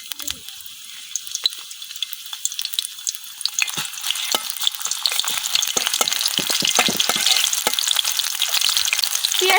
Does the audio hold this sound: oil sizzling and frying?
yes